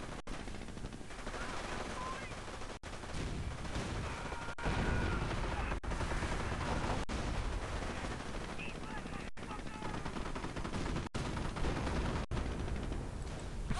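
Sustained, dense gunfire in a World War II strategy video game as units fire on Rangers: rapid overlapping machine-gun and rifle shots blending into a loud, continuous battle din with no pauses.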